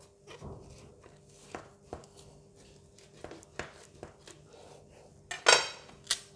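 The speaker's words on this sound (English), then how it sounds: "After wash the corn nicely, I'm going to cut it into half." Washed corn on the cob cut in half on a kitchen board, a series of sharp knife knocks and clacks spread irregularly, with a louder crisp crack near the end.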